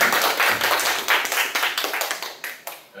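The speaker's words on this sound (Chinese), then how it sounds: "让我们以热烈的掌声来欢迎张老师" A lecture audience claps to welcome a visiting professor, a brief burst of scattered hand claps that starts full and thins into uneven, decaying individual claps over three seconds.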